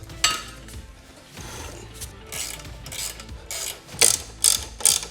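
A Holman folding shelf is collapsed inside a Ford Transit van, giving off a close run of metallic clicks, scrapes and rattles that end in several sharp, louder clacks.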